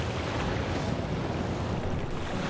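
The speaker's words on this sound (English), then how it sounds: "And the river sloshes against the bank." A river in the game The Flame in the Flood sloshes against its bank, a steady close wash of water with a low churning rumble and no breaks, heard alone without any voices.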